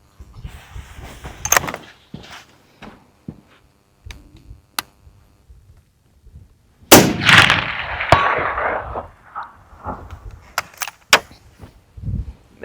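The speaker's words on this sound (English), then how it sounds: "I'm shooting the right target, and this is with the lighter trigger." Rifle shots fired with a lighter trigger at a steel target 400 yards away: scattered sharp cracks and metallic clangs, with one loud, close report followed by a rolling echo.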